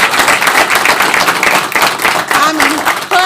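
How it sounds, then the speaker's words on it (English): Audience clapping and cheering as a speaker is welcomed to the stage at a transportation equity reception, a dense burst of applause with voices mixed through it, close and loud throughout. "Give him a big round of applause."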